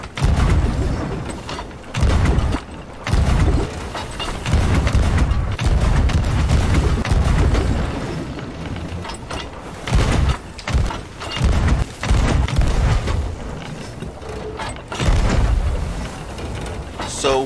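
Ship cannons firing in Sea of Thieves during a solo sloop fight against galleons, with loud booming blasts in uneven bursts over constant rumbling sea and battle noise.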